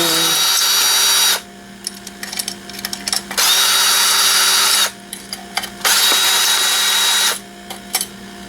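Power drill whirring in three long bursts as it backs screws out of scrap aluminum, each run loud and steady with short quiet gaps and small clicks between.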